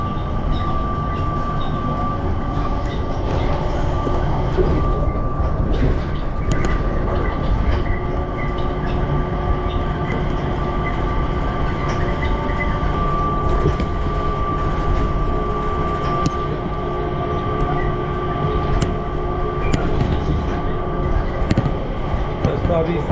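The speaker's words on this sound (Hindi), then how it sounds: "तो अभी हम स्काई ट्रेन के अंदर है, टर्मिनल 3 की तरफ चलेंगे।" Inside the Skytrain at Singapore's airport, running toward Terminal 3, a steady loud rumble of the rail car carries on throughout with rattles and clacks, and voices come and go over it.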